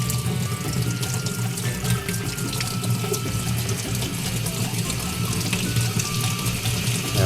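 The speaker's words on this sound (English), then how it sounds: "I'm going to put it under the water again and scrub just a little harder, again with my finger only." Tap water runs steadily into a sink while a piece of etched metal is scrubbed by hand under the stream, a constant close rushing with faint rubbing.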